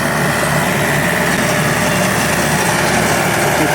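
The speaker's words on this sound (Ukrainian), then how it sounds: "і музика з мотора, і все." A new Kentavr tractor engine runs with a rotary mower while cutting grass for hay, giving a loud, steady, unbroken drone close by with no pauses.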